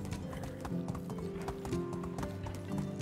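Horse hooves galloping in a steady clip-clop rhythm in the medieval game Medieval Dynasty, close and continuous over a constant tonal game backdrop, with a faint whinny.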